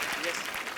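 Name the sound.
audience applause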